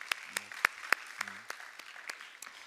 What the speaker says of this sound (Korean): 우리 하나님께 감사의 박수 한번 올려드릴까요?